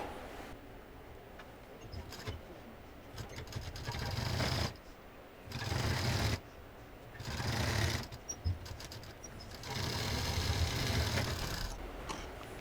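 Sewing machine stitching lace over a seam, running in several bursts of steady whirring with short pauses between them, close and alone.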